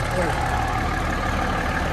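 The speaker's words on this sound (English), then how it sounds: "Engine is underneath the bus in the middle." A 55-year-old Crown tandem school bus idles with its engine mounted underneath the middle of the bus, a steady, even low rumble continuing unchanged for the whole moment.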